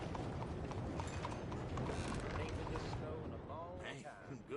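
Steady clip-clop of horse hooves trotting in Red Dead Redemption 2, rhythmic and close, with busy background noise and a voice speaking over it.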